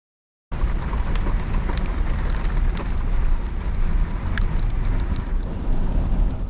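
Steady rain falls on an early-morning city street, a dense continuous wash with scattered sharper drips, fairly loud and close with no voices.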